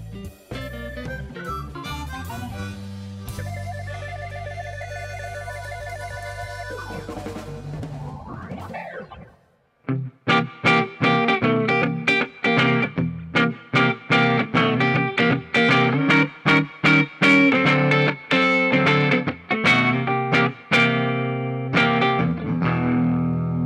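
A 2021 PRS McCarty 594 Hollowbody electric guitar rings through an amplifier, first with sustained chords and slides, then with a rhythmic run of strummed, choppy chords.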